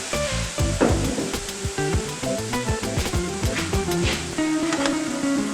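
White wine deglazing a hot pan for a pasta sauce bubbles and sizzles loudly and close, with spoon scrapes and clanks of stirring against the pan over the steady hiss.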